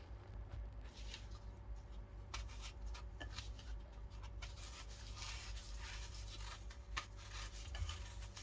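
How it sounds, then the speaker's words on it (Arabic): Apples are peeled by hand with a knife, making soft, continuous scraping and rubbing close by with occasional sharper scratches. A low background hum runs underneath. "عندي هون حبتين من التفاح بدي أقشرهم ونقطعهم"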